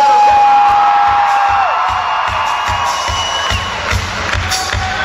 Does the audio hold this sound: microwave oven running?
no